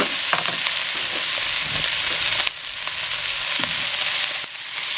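Macaroni stirred in a pot for sopas, a spoon scraping and knocking against the pot in irregular strokes over a continuous hiss, close and fairly loud, with a couple of sharper clinks.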